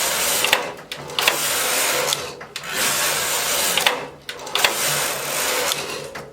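Knitting machine carriage passing back and forth with its weaving brushes knitting the first rows, a steady mechanical whirring rasp in repeated sweeps of about two seconds each, separated by short pauses and clicks.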